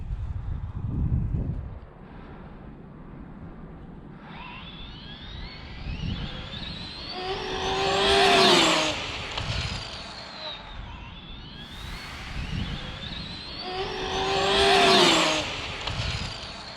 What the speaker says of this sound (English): Whole bunch of cars coming.